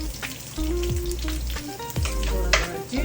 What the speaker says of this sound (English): As you can see, it's getting a little sear on it.